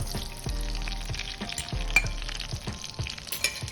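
Egg batter fries in butter in a hot pan, a steady close sizzle with short crackles and scraping stirs recurring about every half second, no talk over it.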